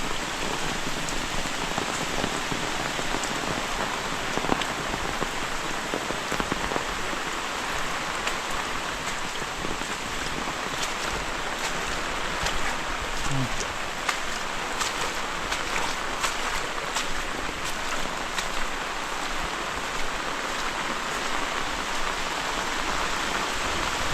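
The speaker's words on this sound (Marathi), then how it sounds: "इकडं तर सगळं वाहूनच आलं आहे पावसानं" Heavy monsoon rain pours steadily and densely in a Konkan village, a constant hiss of drops hitting surfaces throughout, with no voices.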